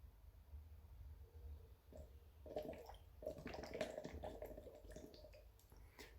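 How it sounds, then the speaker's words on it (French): Someone blows through a straw into a water bottle as a breathing exercise, making quiet, bubbling gurgles in short irregular bursts, faint and close. "vous allez réaliser des bulles comme ceci"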